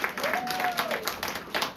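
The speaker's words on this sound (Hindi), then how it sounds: "जोरदार ताली बजाएंगे प्रभु के लिए" A church congregation claps loudly during a Sunday worship service, a dense continuous wash of applause with a voice speaking faintly underneath.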